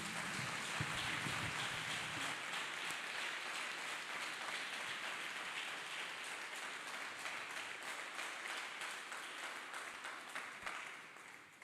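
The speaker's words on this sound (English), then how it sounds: "Let's clap hands for Jesus Christ." Church congregation clapping hands together, a dense steady wash of applause that fills the whole stretch and fades slightly toward the end.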